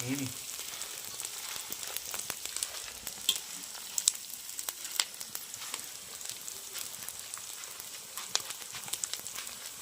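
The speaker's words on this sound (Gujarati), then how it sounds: "આ ગોંદ નાખ્યો ને આમાં ઘીમાં આ તો ઓલ મમરી જેવું થઈ જાય ફૂલાય" Edible gum frying and puffing up in ghee for adadiya, giving a steady, soft sizzle sprinkled with sharp little crackles and pops, fairly quiet and close.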